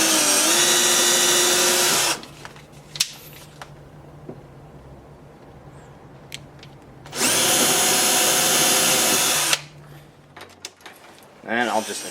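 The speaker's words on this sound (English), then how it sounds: "correctly drill my pilot holes" A Festool drill bores pilot holes for Euro hinges in a plywood slab door. Two loud, sustained whirring bursts are separated by a quieter stretch of small clicks and handling knocks.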